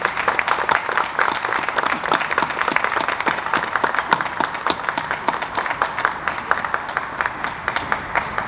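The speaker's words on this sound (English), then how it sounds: "Let's give a round of applause for him." A crowd at a boxing press conference for Claressa Shields vs Hanna Gabriels applauds a five-time world champion. Steady, energetic clapping with many sharp individual claps continues at an even level throughout.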